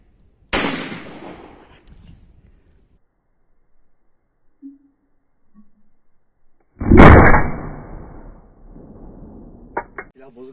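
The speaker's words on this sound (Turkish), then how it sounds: "şu şekilde pencere camına atış edeceğiz" A Zoraki Mod 2918 T blank pistol fires two sharp, loud reports at window glass, the first near the start and the second about six seconds later, each followed by a short decaying rumble and brief clatter.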